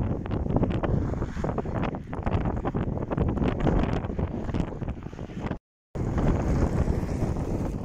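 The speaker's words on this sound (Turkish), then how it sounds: "Sert rüzgar esiyor." Strong wind roars steadily across the microphone by a frozen lake in Sortavala, Russia, broken by a brief moment of silence, with no voices.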